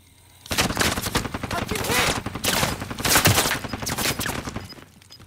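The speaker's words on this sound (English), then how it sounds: "They're fucking shooting me right through the goddamn wall!" Gunfire in the video game Call of Duty: Modern Warfare: dense, rapid automatic bursts, loud and close, hammering steadily for about five seconds after a brief quiet start.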